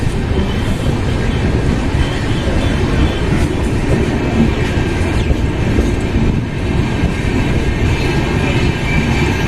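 A Kota Katra Express train rolls along the Jammu line in a continuous, loud rumble heard from inside, with steady wheel-on-rail noise and faint clatter running unbroken throughout.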